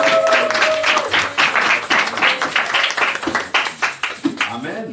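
A church congregation applauds and cheers in celebration, with dense, lively clapping running throughout alongside raised voices and shouts.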